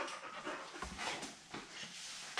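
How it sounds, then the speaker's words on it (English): A Bernese Mountain Dog and Poodle mix pants steadily and close by, with quick rhythmic breaths running through the whole moment and no talking. "He's a Bernese Mountain Dog Poodle mix."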